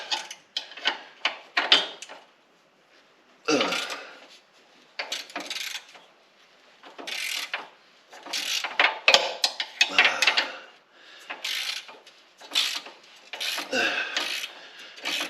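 Bolts loosened on an EZ-GO RXV golf cart during a rear leaf-spring and lift kit job in a garage, bursts of ratcheting and metallic rasping come in uneven spurts separated by short pauses, close and fairly loud.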